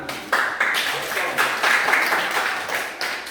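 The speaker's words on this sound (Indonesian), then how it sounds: "Ya, tepuk tangan." Students in a classroom give a short burst of clapping, a few quick rounds of hand claps that rise and fall over a few seconds, close and moderately loud.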